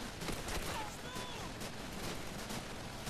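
Rapid gunfire crackles through a Call of Duty 3 firefight, sharp repeated shots from a machine gun mixed with scattered battle noise, moderately loud with a voice speaking over it.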